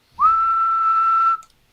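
A single steady whistled tone, held for about a second at an even pitch with a short upward slide at the start, is sent into a ham radio microphone to test the transmit signal on a Xiegu X6100.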